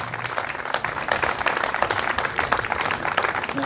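Crowd at a koi show awards ceremony in France clapping loudly for a guest judge, dense close applause sustained evenly for several seconds.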